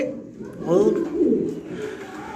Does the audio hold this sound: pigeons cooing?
yes